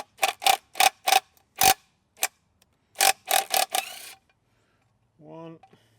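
A 17 mm socket wrench ratchets on a Honda lawn mower blade bolt in sharp, close clicking bursts, two runs of several clicks each, followed by a short faint tonal sound at the end.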